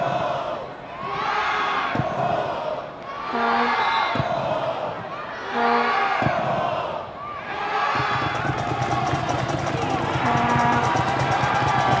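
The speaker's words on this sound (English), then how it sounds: "The home crowd enthusiastic for the final home match for NC State in the regular season." Home crowd at an NC State men's college soccer match against Syracuse roars steadily in a loud, continuous cheer with shouts rising and falling, swelling again near the end, and no talk over it.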